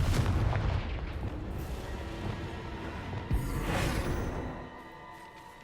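Spell blasts from Hogwarts Legacy go off in quick succession, heavy booming impacts with rumbling tails and a sharp crack near the middle, loud and close, fading toward the end.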